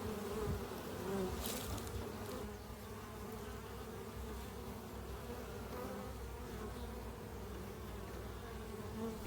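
Honey bees drone steadily around a spring beehive, a dense continuous buzz close to the listener with no voices.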